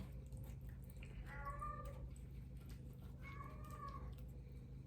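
A cat gives two drawn-out, plaintive meows a couple of seconds apart over a low background hum, moderately close.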